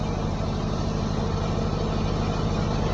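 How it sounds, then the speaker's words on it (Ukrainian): A Wilson 44 kW diesel generator mounted on vibration isolators, running steadily with a constant low rumbling drone and even engine throb, close and loud with no change in pitch or level. "Дуже добрий генератор, потужністю 44 кВт. Працює стабільно."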